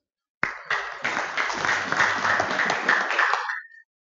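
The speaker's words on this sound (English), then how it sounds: "Clap for the chairman." Conference attendees at an internet governance meeting applaud a chairman, with a burst of clapping that holds steady for about three seconds and then fades out, no one speaking.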